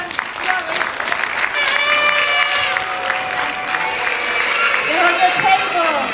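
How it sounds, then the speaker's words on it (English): Applause and cheering at a 20th anniversary celebration for PARCA, a crowd clapping steadily for several seconds with voices and whoops mixed in. "Let's have a big round of applause."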